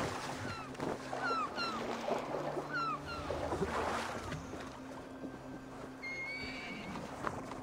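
A horse whinnies a few times in the video game Assassin's Creed Valhalla, amid a busy outdoor soundscape with birds chirping and a steady low hum in the background.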